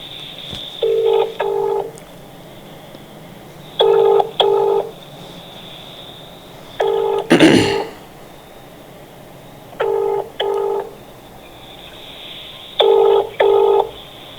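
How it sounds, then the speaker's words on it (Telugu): A telephone ringback tone: paired beeps repeating roughly every three seconds, steady and clear, with a short burst of noise breaking in midway. "ఒకసారి కోదండరామరెడ్డి గారికి ఫోన్ చేద్దాము."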